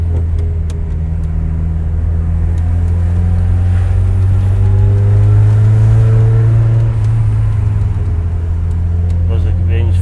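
A Ford Sierra Cosworth accelerates, its engine droning loud and steady with rising and falling tones as it pulls through the gears, heard from inside the car.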